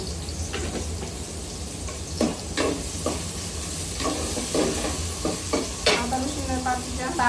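Meat frying with ginger-garlic paste in a pan in a Bangladeshi home kitchen sizzles steadily while a utensil stirs and scrapes it in repeated, uneven strokes, close and fairly loud.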